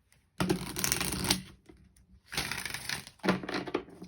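A deck of tarot cards is shuffled in close, crisp riffling bursts, three rapid flurries of papery flutter separated by short quiet pauses, with no talk over it.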